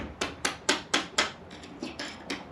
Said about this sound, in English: Now just use a screwdriver and a hammer just to knock it out from the bottom.